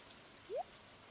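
Soft, steady rain falls over a lake in the video game Stardew Valley, a faint even hiss with one short rising chirp partway through.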